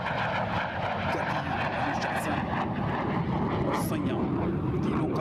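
Military aircraft flying formations in an Air Force Day air display at Hindon Air Force Station, Ghaziabad, a loud continuous engine roar, with someone speaking over it throughout.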